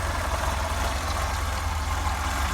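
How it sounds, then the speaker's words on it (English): A cold Opel Manta 1.8 8-valve engine idles with the choke nearly all the way in, a steady, close, continuous low rumble with broad mechanical hiss and no pauses. "This is how it's running with virtually no choke. The engine's not warmed up yet."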